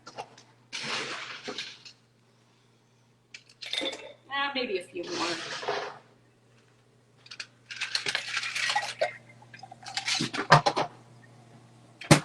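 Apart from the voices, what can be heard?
ice cubes dropped into a cocktail shaker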